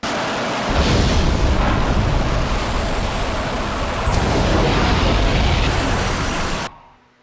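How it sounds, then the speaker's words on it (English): A loud, sustained roaring blast that rumbles steadily for several seconds before cutting off abruptly. "Explosion of some sort."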